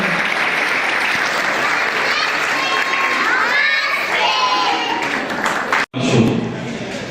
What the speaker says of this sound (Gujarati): બાળકોને તાળીઓના ગડગડાટથી વધાવશું આપણે